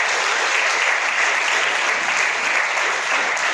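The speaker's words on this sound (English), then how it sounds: "Please give a big clap for this." Sustained applause from an audience at a college awareness seminar on getting jobs, a dense even clapping that stays loud throughout with no pauses and no voices on top.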